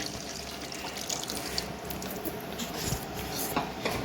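Tamarind water pours into a simmering sardine curry, a steady close splashing trickle with a few louder splats, no voices over it.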